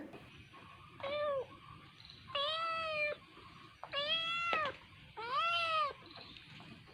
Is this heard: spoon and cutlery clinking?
no